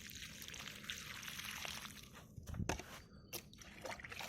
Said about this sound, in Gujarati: હવે આપણે પોપૈયાને પાણી આપી દઈએ